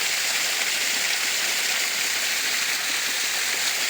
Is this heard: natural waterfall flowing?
yes